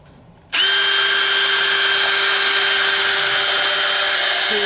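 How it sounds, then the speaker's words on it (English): A countersink drill starts abruptly after a brief quiet moment, then whines loudly and continuously at a steady pitch while boring into a wooden floor drawer in a van. "He's using a countersink drill."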